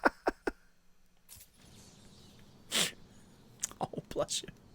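A single close sneeze bursts out in the middle of a stretch of quiet breathing and small mouth noises. A few short vocal sounds and clicks surround it.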